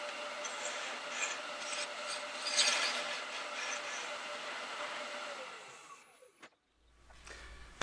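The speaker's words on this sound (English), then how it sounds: "the first thing to do then is to face off the remnants of the last project on the glue block" A woodturning tool faces off the old glue remnants from a glue block spinning on a lathe, making a steady, close scraping rasp with a low running hum that cuts off near the end.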